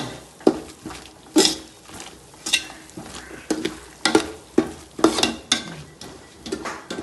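Curry leaves fry in hot oil for a homemade prawn pickle, with soft sizzling broken by repeated sharp scrapes and clinks of a spoon stirring against the pan, close and steady with no talking.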